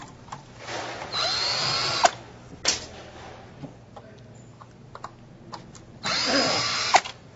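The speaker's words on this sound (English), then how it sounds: "I kind of like this power tool" A power drill drives screws in short bursts, three main runs separated by pauses, with clicks and handling noise between them, close and fairly quiet.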